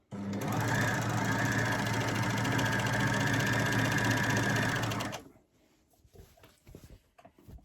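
An overlocker sewing machine stitches fabric for a gift bag, running loud and steady for about five seconds before stopping, followed by faint handling of cloth.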